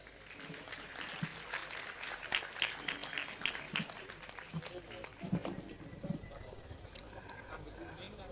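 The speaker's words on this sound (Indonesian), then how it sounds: "tepuk tangan, ya." Scattered audience applause at a large Indonesian religious gathering, uneven bursts of clapping rising and falling over several seconds, moderately distant, with murmuring voices underneath.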